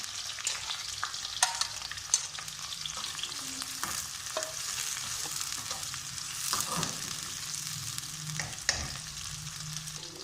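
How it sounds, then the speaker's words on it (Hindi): Chopped onions sizzle and crackle in hot oil for a chicken korma, a steady broadband frying hiss with occasional sharper pops and faint stirring clinks, fairly close and continuous throughout without any voices. "तेल गर्म हो चुका है। अब इसके अंदर हमने ये प्याज डालने हैं। बिस्मिल्लाहिर्रहमानिर्रहीम। प्याज को हम फ्राई करेंगे"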